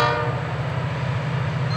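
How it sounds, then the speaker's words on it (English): A Florida East Coast freight train rolling past, a loud continuous rumble with a sustained horn-like tonal drone throughout, no speech. "Get the train moving again."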